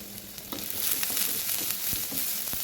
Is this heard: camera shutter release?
no